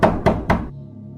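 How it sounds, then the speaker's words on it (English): Three quick hard knocks on a door in an even rhythm, loud and close, followed by a brief low hum as they die away. "But then it happened again, a knock at the door."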